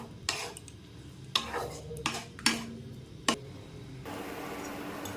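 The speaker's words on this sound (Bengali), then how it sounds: "এবার এটাকে ভালো করে নাড়িয়ে নিই যাতে চিনিগুলো ভালো করে গলে যায়" Spoon stirring mango chutney with sugar in a pan: five sharp clinks against the metal at uneven intervals, close and fairly quiet, followed by a soft hiss at the end.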